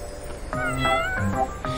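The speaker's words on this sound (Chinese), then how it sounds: "师姐说猫这么大的时候最可爱了" A small kitten meows several times in quick succession, about four short, high, plaintive calls close to the listener, with no talking.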